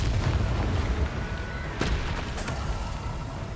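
A Confringo blasting curse in a Harry Potter video game, heard as booming blasts with one sharp explosive crack in the middle and a second burst soon after, over a steady rumble of game ambience.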